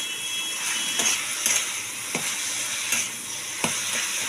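Leafy noteh greens fry with garlic and a little sugar in oil in a pan, giving a steady close sizzle, with a few brief stirring scrapes standing out from the hiss. No one speaks.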